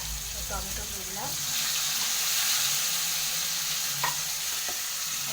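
Tomatoes hiss and sizzle in a pan for a bhetki fish curry, a broad steady frying wash with a few utensil scrapes and clinks near the start and end, close and fairly loud, with no talking.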